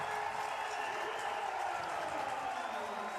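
Stadium crowd at a rugby match between Canada and Spain applauding and cheering after a kick through the middle, a distant, sustained roar of clapping with a commentator talking over it.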